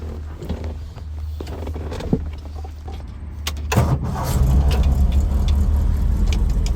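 A 1967 MGB GT with a 4-speed manual turns over with a low rumble, then catches with a louder burst and settles into a steady, throaty idle, recorded up close with no talking.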